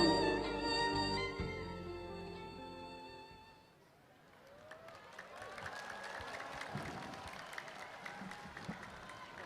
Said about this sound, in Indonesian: Hadirin boleh berikan tepuk tangan yang meriah sekali lagi untuk ritual prosesi penutupan MTQ ke-35 di Kabupaten Bener Meriah